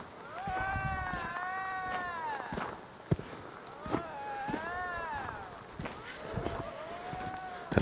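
Several drawn-out, wavering lynx yowls rise and fall at a moderate distance in the bush, separated by quiet rustling and a few soft thuds.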